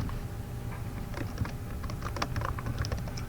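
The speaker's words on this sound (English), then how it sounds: "Just simply type in your name." Fingers type a name on a computer keyboard, a quick close run of soft key clicks over a low steady hum, with no speech.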